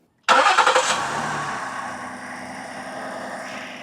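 A car engine cranks and catches right away with the help of a VTOMAN X1 portable jump starter, then settles into a steady idle that stays loud and close, with no talking.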